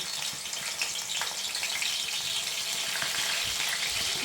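Onion goes into hot oil for a village-style fish curry, giving a loud, dense, continuous hissing sizzle that holds steady and close without a break.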